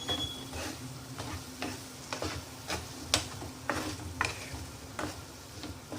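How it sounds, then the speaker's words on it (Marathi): Sliced pointed gourd is sautéed in a pan, giving a soft, steady sizzle broken by regular scraping taps of a spatula stirring about every half second, quiet and close. "आता यामध्ये आपण जे परवलचे काप केले होते ते टाकूया। त्याला परतून घ्यायचं।"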